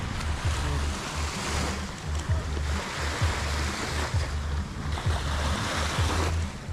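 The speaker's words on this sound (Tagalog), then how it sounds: "yan po yung alon alon ng tubig dagat" Sea waves wash and rumble continuously along a seaside boulevard in Santa Catalina, Negros Oriental, Philippines, with a broad rushing hiss, a low rhythmic throb running underneath, no voices.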